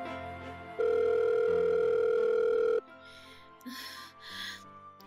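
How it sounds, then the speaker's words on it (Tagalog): A telephone sounds one long steady electronic ring tone lasting about two seconds, loud and close, followed by quieter breathy gasps and rustling. "Sagutin niyo na ang phone."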